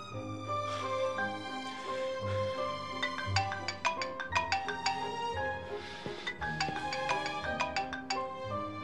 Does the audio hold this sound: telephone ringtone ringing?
yes